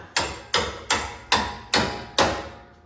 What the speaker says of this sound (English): let me grab that ball peen hammer and just give it a couple of